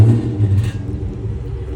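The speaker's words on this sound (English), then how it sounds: "this is my last time starting my car" A car engine idles with a low, steady rumble and surges briefly near the start, close by. The car is at a CarMax lot.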